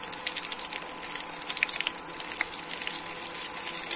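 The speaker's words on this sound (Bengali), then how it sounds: "ফোড়নটা আমি একটু ভাজা ভাজা করে নেব।" Green chilies and nigella seeds sizzle in hot oil for a tempering, a soft, hissing fry with faint crackles, fairly quiet and steady, with no talking.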